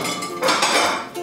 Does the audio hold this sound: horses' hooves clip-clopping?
no